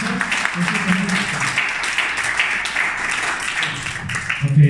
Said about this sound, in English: Give Adam a big hand of applause.